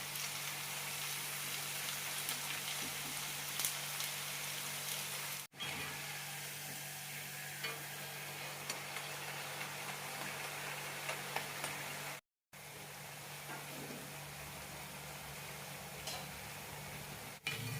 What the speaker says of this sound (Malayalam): അതുവരെ മീഡിയം ഫ്ലെയിമിലിട്ട് വറുത്തെടുക്കാം.